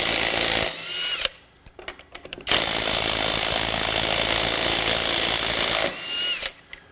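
A $100 Amazon cordless impact wrench runs hard under load in long, loud bursts of rapid hammering whine, cutting off twice into brief pauses with clanks and handling noise before starting again.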